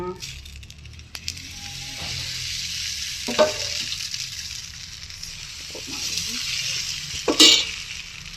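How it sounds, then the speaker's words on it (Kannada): Dosa batter with onion and red carrot sizzles on a hot pan at a Sakleshpur homestay kitchen, a bright steady hiss with a few scrapes and clinks, close and clear, no talking. "ಫಸ್ಟು ದೋಸೆ ಬ್ಯಾಟರ್ ಪೋರ್ ಮಾಡೋಣ"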